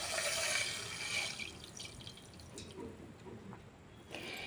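Water poured from a glass into sugar in a pan for gulab jamun syrup, a short close splashing pour that fades into soft trickles and drips.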